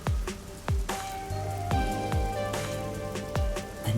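Rain in the video game Master Detective Archives: Rain Code, falling steadily in a neon-lit city district, with sharp drips and splashes landing over a constant wet hiss and low ambient music.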